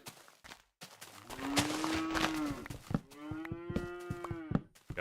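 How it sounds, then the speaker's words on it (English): Two long, close Minecraft cow moos, each drawn out and wavering, with faint footstep-like clicks scattered around them. "I don't get to hear these annoying cow sounds."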